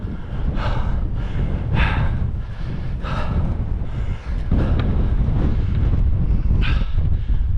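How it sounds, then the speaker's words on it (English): Gusty wind buffets the microphone on an exposed hillside climb at Gunnerside Gill, coming in loud, rhythmic surges roughly every second or so, with no talking. "wind's picking up a little bit"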